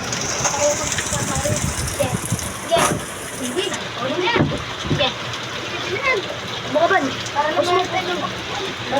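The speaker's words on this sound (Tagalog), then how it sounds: "Ang lakas ng ulan" Heavy rain pours and splatters outdoors in a dense, continuous roar, loud and close, with people talking and exclaiming over it.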